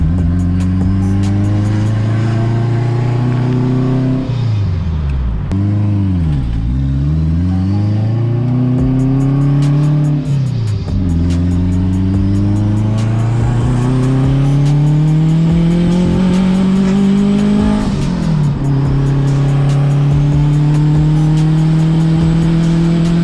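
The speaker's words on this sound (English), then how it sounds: "I really just want you guys to hear the sound of the motor, how everything sounds with a single turbo setup" An H22 turbo-swapped Honda Accord wagon running a single turbo setup, heard while cruising. The engine note climbs loudly through each gear and drops sharply at the shifts, with turbo whoosh up close and no voices.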